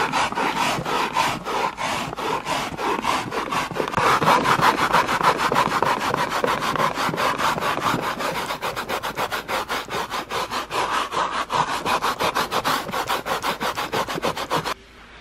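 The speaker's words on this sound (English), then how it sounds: "I'm gonna start scrubbing this and see if it gets a stain out." A carpet stain being scrubbed during spring cleaning: rapid, steady back-and-forth rubbing strokes, close and loud, continuing for about fifteen seconds with no talking.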